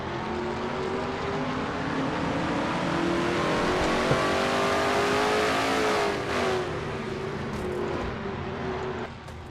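A race car engine in a racing video game revs hard through a corner of an oval race, a loud sustained roar whose pitch climbs during a quick throttle burst, then eases off near the end.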